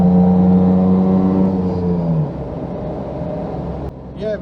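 A small Daihatsu Fellow Max hums along with a low, droning engine note that is loud and close, holding steady and then dropping as the revs fall away.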